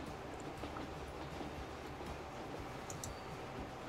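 Stadler Flirt electric train departing in the video game Transport Fever 2, a steady, dense rumble of rolling wheels with faint clicking rail joints, continuous and fairly close throughout.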